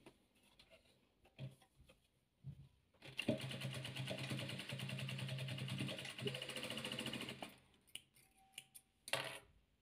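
A sewing machine stitching soft fabric panels for a children's 3D ball, running in one steady whirring burst of about five seconds between quiet handling noises and a brief final run.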